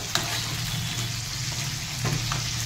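Cauliflower florets frying steadily in a pan in a Bengali kitchen, a continuous close sizzle with a couple of brief clinks of a utensil, no voices.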